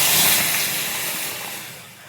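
Water poured into a pan of vegetables frying in butter for veg soup, a loud hissing sizzle bursting up close and slowly fading.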